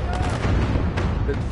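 Rapid gunfire in a multiplayer shooter game featuring the robot BT, a short, dense burst of rattling shots and rumble, close and steady, with speech mixed in.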